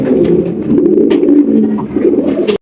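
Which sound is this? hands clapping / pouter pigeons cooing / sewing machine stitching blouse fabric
pouter pigeons cooing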